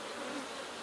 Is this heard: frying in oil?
no